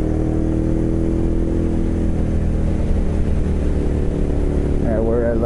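A first motorcycle rides along the NC 209 mountain road, its engine droning steadily at fairly high revs near 4,500 to 5,000 RPM, loud and constant under rushing wind, with a voice speaking over it.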